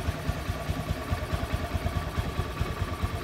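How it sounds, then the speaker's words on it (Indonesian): A motorcycle engine runs with its starter switch bypassed, idling in a steady close-up thumping rhythm of regular low pulses, with no talk. "Ini mesin hidup, nah kan masih nyala terus"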